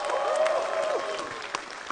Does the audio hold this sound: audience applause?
yes